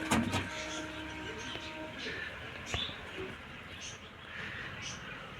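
Pigeons in a breeding loft give soft, low coos and bird calls amid a steady murmur of movement, with a brief louder flutter near the start.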